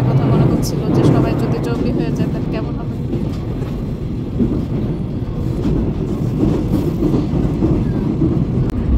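Inside a metro train in South Korea, a steady low rumble and rolling hum of the carriage fills the space continuously, with faint voices murmuring beneath the moving train noise.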